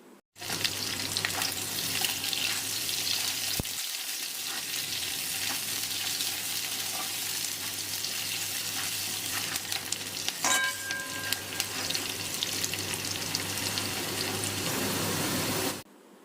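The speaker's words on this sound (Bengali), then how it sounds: "কচু ও আলু হালকা করে ভাজা হয়ে গেছে এতে দিয়ে দিচ্ছি পেঁয়াজ কুচি" Arum (taro) and potato chunks fry steadily in hot oil as chopped onion goes in, a continuous close sizzle with light stirring scrapes, a brief dip around the middle and a short clatter later on.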